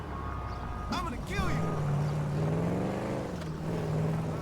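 Car engine in the video game GTA 5, a steady mid-pitched drone that rises slightly as the vehicle drives along, running continuously beneath someone talking.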